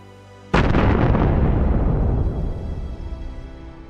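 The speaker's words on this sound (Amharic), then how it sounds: "አስትሮይዱ በቢሊዮኖች የሚቆጠሩ የኒውክሌር ቦምቦች ኃይል ምድርን ይመታል።" An asteroid impact explosion sound effect for the Chicxulub strike near Mexico's Yucatan Peninsula: one sudden, massive boom that rolls into a long, roaring rumble that fades slowly over several seconds.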